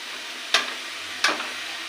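Two spoonfuls of onion paste cooking in a pan over gas heat give a steady, gentle sizzle, broken twice by sharp stirring scrapes.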